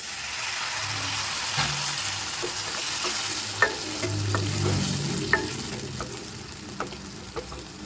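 Ash gourd sautéing in a pan for Kaasi halwa, with a steady close sizzle and repeated sharp scrapes and clinks of a spoon stirring through the cooking pieces, no voices.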